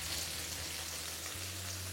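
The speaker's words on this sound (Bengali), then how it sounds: "এবার একটু ধৈর্য ধরে আপনাদের এই পেঁয়াজটাকে ভালো করে ভেজে নিতে হবে" Thinly sliced onions, about 450 grams, fry steadily in hot mustard oil, giving a dense, even sizzle that fills the clip without pause and with no one talking.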